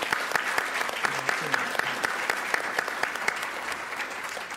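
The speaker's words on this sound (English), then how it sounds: "Let's have another round of applause for our presenters," An audience at a health research network plenary session applauds its presenters, steady clapping from many hands filling the room at a moderate level, with a few sharper individual claps standing out.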